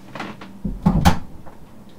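A door is handled indoors, with a few knocking thumps and a soft clunk as it opens or closes, close by and without speech.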